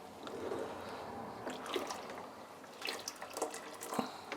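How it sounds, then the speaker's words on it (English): Hot water poured into a coffee brewer, a steady close splashing and trickling stream with a few louder splashes toward the end, no talking. "I'll pour some water into it"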